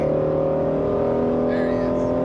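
A Ford Mustang GT350's engine holds a steady, loud low drone with a deep tonal rumble, close by and continuous throughout the short stretch, without a clear rev swell.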